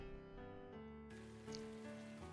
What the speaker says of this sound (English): The rain grows heavier.